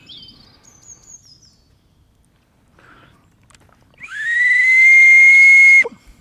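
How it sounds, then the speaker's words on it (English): A handmade bushcraft whistle carved from wood with its bark slipped back on, blown once in a loud, steady, pure tone lasting nearly two seconds after faint earlier peeps, close and alone. "And then we have a whistle."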